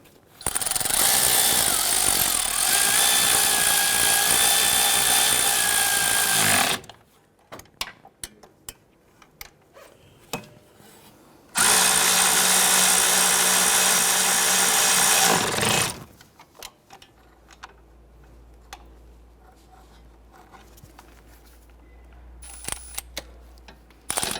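Engine mount bolts on a 2012-2017 Toyota Camry are run down with a power tool in two long, loud, buzzing bursts, separated and followed by quieter clinks and handling sounds.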